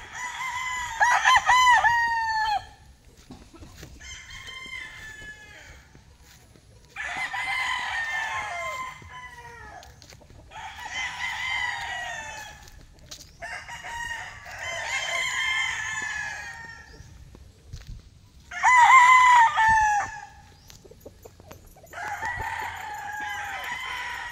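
Roosters crow repeatedly on a rooster farm, about seven long loud crows coming one after another with short pauses, some close and some farther off, with faint ambient noise between them.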